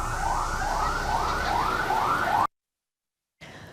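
Ambulance sirens wail loud and near during a school evacuation, a repeating rising-and-falling yelp cycling about every half second before the sound cuts abruptly to silence.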